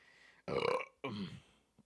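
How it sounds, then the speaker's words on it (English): Two loud, close, guttural burps after eating Fritos and drinking Mountain Dew, one short and one longer, with a tiny trailing sound after a quiet pause. "that's that Fritos burp. Mix with that Mountain Dew"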